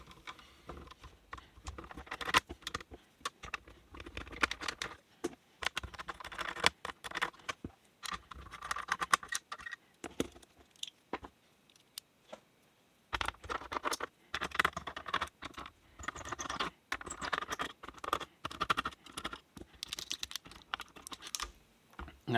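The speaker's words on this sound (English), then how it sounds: "you have to remove these 4 screws with a flathead screwdriver" A flathead screwdriver removes motherboard screws in a Lenovo ThinkCentre M57 desktop, making close, dense bursts of irregular clicking and scraping for about twenty seconds with one short pause midway and no talk.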